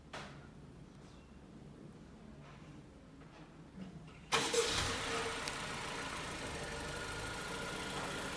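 A quiet moment, then a 2018 Honda Civic 1.5 turbo engine cranks and catches by remote start, settling into a steady idle that continues to the end.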